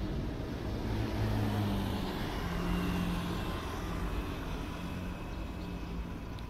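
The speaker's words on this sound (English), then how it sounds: "That's how the normal traffic works." Road traffic flows past on a street in Taiwan, a steady broadband rumble of engines and tires holding level throughout with no voices.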